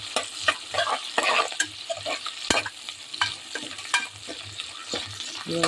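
Onion, green chili and curry leaves are stir-fried for a mixed vegetable palya, with a close, rhythmic run of spatula scrapes over a steady sizzle.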